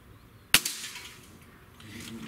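A single sharp crack from a Diana AM03 Stealth N-TEC .22 caliber breakbarrel air rifle, close and loud, trailing into a brief quiet ring with no talk.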